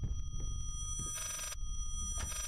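A telephone rings in the horror video game Layers of Fear as two short electronic bursts over a low, rumbling ambient drone, with a quiet gap between them.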